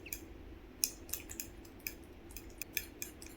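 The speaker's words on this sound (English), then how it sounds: "Whisk the eggs really well with the added ingredients." Raw eggs whisked with black pepper, salt and spices in a bowl, a fork or whisk ticking lightly and unevenly against the side, soft, close and with no talk.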